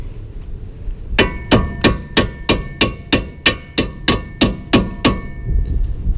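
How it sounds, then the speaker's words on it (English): A hammer strikes a front strut bolt on a 2004-2007 Chevy Malibu, about a dozen loud, evenly spaced metallic clanks ringing close up, with no talking. "So I'm gonna grab a hammer."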